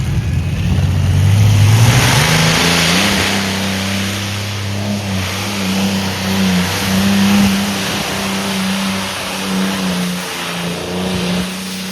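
A pulling tractor's engine revs hard in a tractor pulling arena at Brande, loud and close, its low roar swelling and holding steady through the whole stretch with strong rumbling tones.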